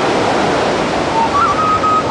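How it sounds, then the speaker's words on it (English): Victoria Falls, Mosi-oa-Tunya, thunders as a steady, loud wash of broadband roar, with a faint whistling tone drifting over it near the end. "The falls drop over 100 meters in a sheer cascade, nearly 2 kilometers wide, making Moshi Oyatunya the greatest waterfall in the world."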